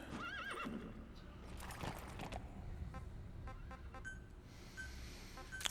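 A horse in Metal Gear Solid V whinnies loudly at the start, its hooves clip-clopping through the rest amid game ambience and small interface beeps.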